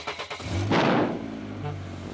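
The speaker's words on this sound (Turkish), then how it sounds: "Hadi şimdi güzelce gaz ver bakalım." A cartoon monster truck's engine revs loudly in a short rising burst, then settles into a steady idle rumble, with no talk over it.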